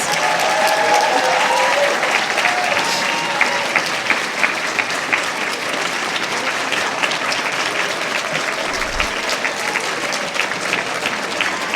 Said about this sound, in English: let's give these students one last round of applause